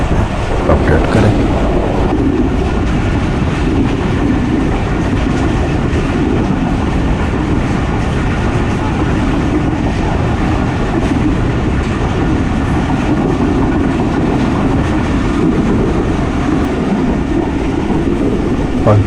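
Riding aboard the Pakistan Express passenger train as it runs through stations in Pakistan, a loud, steady rumble of wheels on rails with a continuous rhythmic clickety-clack over the track joints.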